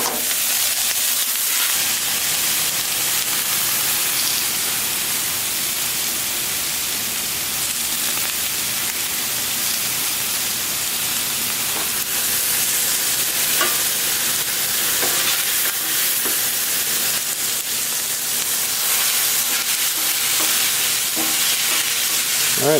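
Peppers sizzle steadily on a Camp Chef flat top griddle turned up to high, a loud, continuous frying hiss with faint clinks and scrapes, no voices.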